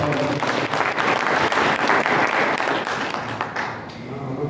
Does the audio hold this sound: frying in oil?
no